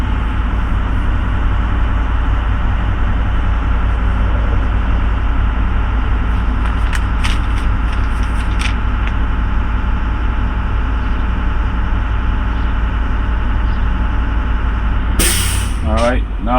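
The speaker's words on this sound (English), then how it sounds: "So now I'm going to assist the compressor till it cut out." A truck's air brake compressor chugs steadily close by with the engine idling, a continuous low drone with faint clicks, then a sharp burst of hissing air near the end as it cuts out.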